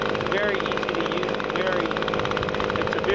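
Small two-stroke engine of an Echo PB-250 handheld leaf blower held at high revs, a loud, steady buzzing drone with fine rapid pulsing, close up, the pitch shifting slightly throughout.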